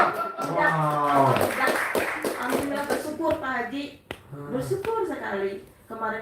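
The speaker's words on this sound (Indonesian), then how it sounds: "tepuk tangan dong" A small group clapping hands briefly amid lively, overlapping conversation and exclamations, the claps crisp and near, partly buried under the talking voices.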